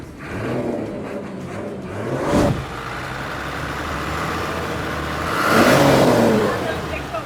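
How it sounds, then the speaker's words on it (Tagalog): A Japanese-made Isuzu 6HL1 turbo diesel truck engine with manual injection at an auction yard, revving up twice over a steady idle rumble, heard up close while someone talks over it. "Ito po yung 6HL1 na manual injection, pero turbo boss."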